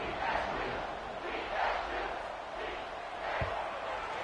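A stadium crowd in College Football 26 roars steadily in waves after a touchdown drive. The sound is a broad, distant-sounding mass of cheering with one brief thump near the end.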